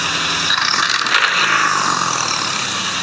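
Tuned Toyota engine, a Vigo pickup or Land Cruiser with modified exhaust and turbo, running steadily in a car parking area, a loud continuous broadband roar with brief crackly surges, no talking.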